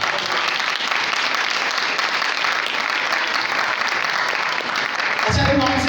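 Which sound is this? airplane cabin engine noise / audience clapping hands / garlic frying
audience clapping hands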